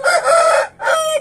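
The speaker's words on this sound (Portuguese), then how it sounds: "Ele é novo, é um galinho novo" A young rooster crows loudly and close by, two strident bursts separated by a brief gap, with no other sounds around it.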